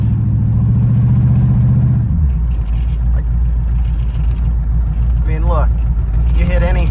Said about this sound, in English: this is a very bumpy road with regular suspension, like just a regular vehicle